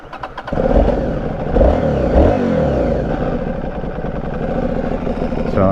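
A loud Aprilia Shiver 750 motorcycle engine roars and revs up close, with its exhaust restrictor removed, rising and falling in pitch with a rough, rumbling idle between throttle blips.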